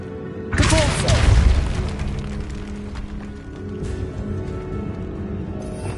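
Spell blasts from the video game Hogwarts Legacy: a loud booming burst with crackling debris rings out near the start, then fades into a lingering rumble and fainter impacts under game ambience.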